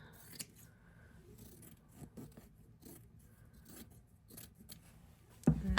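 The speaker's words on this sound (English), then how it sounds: "I'm just gonna cut a section out." Scissors snip through a piece of quilt fabric in a quiet room, several soft cuts and rustles spaced out, ending in a louder handling bump.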